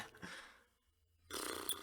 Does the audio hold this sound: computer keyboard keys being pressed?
no